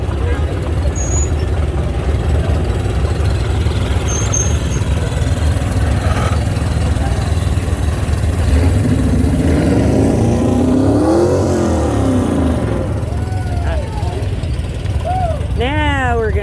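Cars rolling out in a small-town Arizona parade and car show, engines idling and revving steadily over broad crowd murmur and nearby talk, with a few rising rev sweeps near the end.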